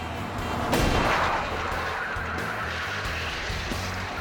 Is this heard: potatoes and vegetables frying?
no